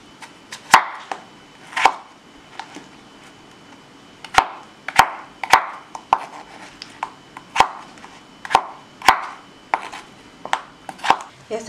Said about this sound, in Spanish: Y ahora vamos a picar una papa.